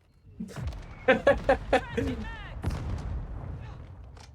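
Distant sniper rifle shots in a big multiplayer map, a short run of five sharp booming reports in quick succession with a lingering tail, under a voice.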